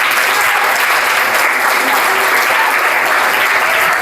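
Loud, dense applause from a school audience at a magic show, a continuous roar of clapping that stays even and strong from start to finish with no voices breaking through.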